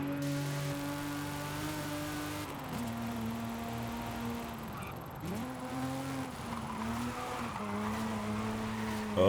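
Engine note of a car heard from inside the cabin in the Forza Horizon 5 racing game, a steady droning hum that rises and dips as the car shifts and accelerates, with faint tire noise.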